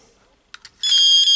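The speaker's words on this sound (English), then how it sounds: "I'll give you an example of a different tone." An ATT fishing bite alarm, adjusted to a different tone, gives a couple of soft button clicks and then a loud, steady, high-pitched electronic tone that holds without a break.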